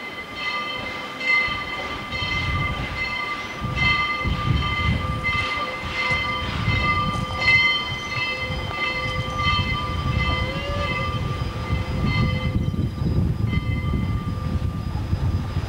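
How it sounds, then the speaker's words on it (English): A train passes near Mt. St. Helens, a loud steady rumble of rolling cars with a sustained horn-like tone riding over it, continuous and close for the whole stretch. "Here comes the train."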